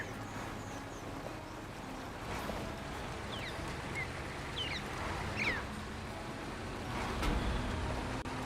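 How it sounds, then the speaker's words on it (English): Birds chirp and call in brief, scattered bursts from the outdoor game world of Snowrunner, faint over a steady low rumble of background ambience. "I feel like the bird noises they chose don't match the birds they chose."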